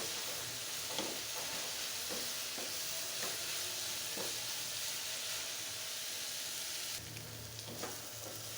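Chopped onions and snake gourd frying in a pan, with a constant sizzle and irregular stirring scrapes close by. The frying softens slightly near the end, and no one speaks.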